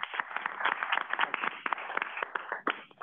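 Audience clapping after a presentation at a regional transportation committee meeting, a fairly faint, thin round of scattered claps lasting about three seconds with no voices over it.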